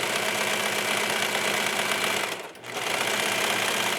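A sewing machine stitching fabric with contrasting thread, its motor whirring in a fast, steady mechanical chatter up close, briefly easing off for a moment before resuming at full speed.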